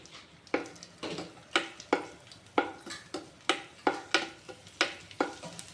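Raisins fry in a pan with sharp, regular stirring scrapes and clinks, about a dozen strokes at an even pace, over a faint sizzle.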